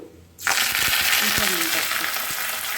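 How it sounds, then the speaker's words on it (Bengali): Spices hit hot ghee with a sudden loud sizzle that starts abruptly and keeps hissing steadily, with a few light clinks of a utensil against the pan. "ফোড়ন দিলাম"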